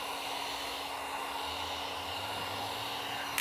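A heat gun warms vinyl wrap laid over knifeless tape, giving a steady, close, airy whoosh that runs unbroken for the whole stretch with no voices.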